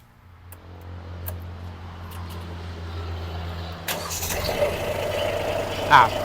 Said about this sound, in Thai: รถนะครับสตาร์ตติดง่ายนะครับ ไม่มีลากไม่มีอะไรเลยนะครับ เสียงเครื่องปกติ